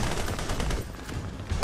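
Rapid automatic gunfire in the video game Army of Two: The Devil's Cartel, a dense, continuous, loud burst of overlapping shots that does not let up.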